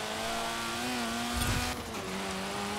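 A powerful sports car in Forza Horizon 4, likened to a baby Ferrari, revs hard while driving, its steady engine tone rising and then dropping through a gear change, heard close and alone.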